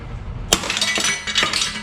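A tight bolt on the T-56 transmission of a 2003 Mustang Cobra breaks loose under a wrench: one sharp metallic crack and clink, then a few scattered ringing metal clinks and rattles nearby, with no talk.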